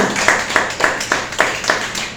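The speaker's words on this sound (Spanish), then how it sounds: "Denle un fuerte aplauso al Señor" Rhythmic single hand claps at a church service, about eight evenly spaced beats, moderately loud against a faint background hum.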